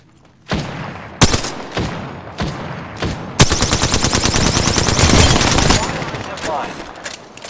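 Incoming gunfire in Apex Legends, starting with a few separate loud shots and then a dense, rapid machine-gun burst rattling for several seconds, close and harsh, with game voice alerts mixed in.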